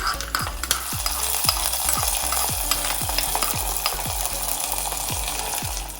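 Mustard seeds and curry leaves sizzle in hot oil, a steady frying hiss broken by a regular run of sharp popping crackles about every half second, close and alone.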